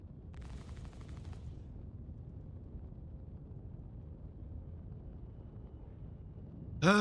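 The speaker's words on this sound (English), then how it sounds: "Go ahead, launch those missiles." Missiles launch from a spacecraft in Star Citizen: a short, bright, rushing burst near the start over a low, rumbling cockpit drone, followed by steady engine hum and a sharp tonal blip at the very end.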